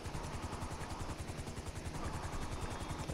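Private helicopter running steadily nearby, its rotor chop a dense rapid pulsing with a continuous engine whine, loud and constant throughout with no talk.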